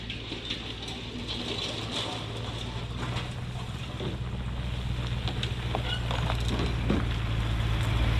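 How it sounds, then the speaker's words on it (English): Water flows steadily near a tight bush track, a soft broadband rush mixed with wind noise that grows slightly louder toward the end, with no talking. "Hear that water."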